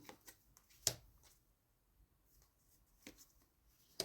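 Soft intermittent flicks and slaps of tarot cards being shuffled and laid out on a table, a few sharper snaps among quiet rustling, close and faint.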